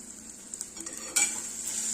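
Matki masala stirred in a pan with sesame-coconut powder, onion-garlic masala, chili powder, turmeric and coriander, a close scraping and sizzling stir that grows louder partway through.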